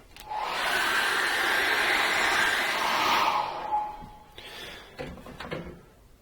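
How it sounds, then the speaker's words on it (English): A hair dryer drying acrylic paint blows steadily at close range for about four seconds, then switches off, followed by a few light clicks and handling sounds. "I'm going to put the hairdryer on that very quickly."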